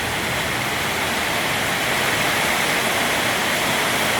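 Heavy rain pours down around a house, a dense, steady hiss of falling water that stays loud and unbroken throughout, with no voices.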